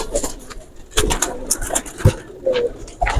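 Heera Lal pigeons coo softly and intermittently at close range, low throaty calls mixed with wing flutters and rustling movement in a loft.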